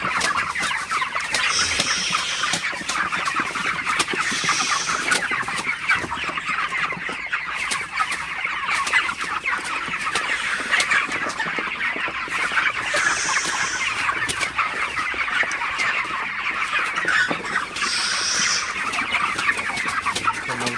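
Broiler chickens packed in a shed cluck and chatter continuously, a dense, loud flock noise with occasional louder calls rising every few seconds.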